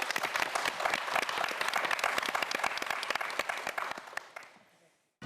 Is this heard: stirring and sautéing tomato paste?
no